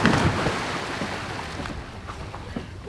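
A boat pulling away on the sea off the Greek coast at Kleftiko, with steady rushing wind and water noise, loud at first and easing slightly, and no talk over it.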